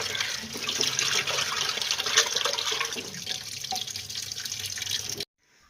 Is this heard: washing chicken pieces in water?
yes